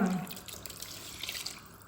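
Water runs and splashes steadily into a cooking pot for rice, a continuous gurgling pour that fades a little after a strong start.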